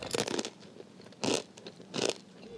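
Ramen snack mix being bitten and crunched: three separate crisp crunching bursts, close and fairly loud, with quiet pauses between them and no talk.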